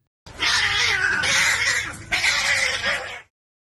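A cat yowls loudly and close in a house, one long drawn-out wailing cry, a brief catch, then a second sustained yowl before falling silent.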